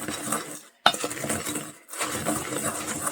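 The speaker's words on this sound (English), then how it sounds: "use it to crush the crackers in the bowl" An old glass jar clinks and grinds against crackers in a bowl, crushing them in two rough bursts broken by a brief pause, close and fairly loud with no one talking.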